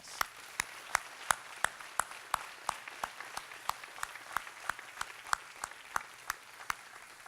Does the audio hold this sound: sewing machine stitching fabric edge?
no